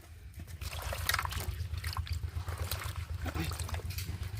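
Taro stems are rinsed by hand in water, with close, continuous sloshing, trickling and splashing that keeps a busy, uneven rhythm throughout.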